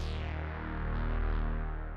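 A clean synth sub bass patch from the Trillion instrument, played without Decapitator distortion, holds one sustained deep note with dense harmonics for about two seconds, close and steady before cutting off abruptly.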